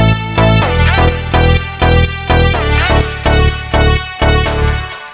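Crunchy bit-crushed synthesizer sample with slightly dulled highs and added harmonics, playing a rhythmic run of about nine punchy chordal hits over a steady low bass, loud and alone with no talking.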